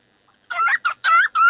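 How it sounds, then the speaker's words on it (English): Pet bird calling, a quick run of four loud squawking calls close by after a brief silence, with no talking. "Hi, bird."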